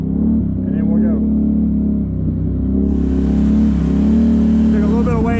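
Can-Am off-road vehicle engine running in sport mode, a loud steady mid-pitched drone with rising revs, close and continuous, while a person talks over it.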